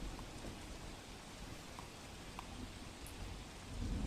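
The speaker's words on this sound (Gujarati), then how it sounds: "સુરત શહેરમાં વહેલી સવારથી ધોધમાર વરસાદ જોવા મળી રહ્યો છે" A heavy early-morning monsoon downpour in Surat hisses as a dense, unbroken wash of rain, steady and enveloping from start to finish, with no voices.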